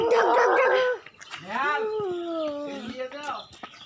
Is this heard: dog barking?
yes